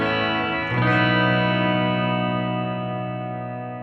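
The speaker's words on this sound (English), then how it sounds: "We also have the church reverb." An electric guitar chord struck once and left to ring, washed in a long, spacious church reverb tail that slowly fades.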